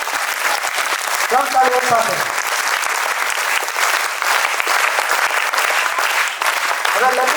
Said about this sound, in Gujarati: તો ઊંચા હાથ રાખીને તાળીઓ પાડો કલાકારો માટે